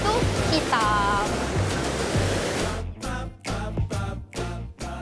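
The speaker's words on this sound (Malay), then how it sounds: "ini dipanggil air terjun air hitam kerana airnya yang berwarna hitam" Air Hitam waterfall, a cascade into a black-watered pool set on the Bintang Hijau range, roars steadily up close, a dense continuous rush that breaks into pulsing surges in the second half.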